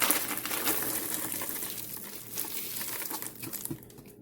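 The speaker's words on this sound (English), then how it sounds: "So we're going to want to very gently take the orchid out of the pot." Crinkling and crackling of a plastic pot being flexed as an orchid is eased out, with a dry rustle of bark potting mix, close and fairly steady.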